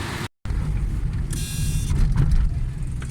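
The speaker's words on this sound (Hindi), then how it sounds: "बेहतरीन साउंड है माशाल्लाह गाड़ी।" A Suzuki Khyber car engine idles steadily up close, a continuous low rumble with a brief cut near the start, no talking over it.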